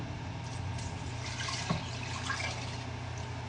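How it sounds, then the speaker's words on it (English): Water poured from a container into a stovetop pot of pinto beans, about three cups, a steady close splashing fill with a brief sharper splash midway over a low constant background hum. "this is where we're going to add additional water"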